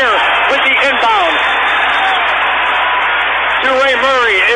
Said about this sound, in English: The Illinois State fans pumping up the crowd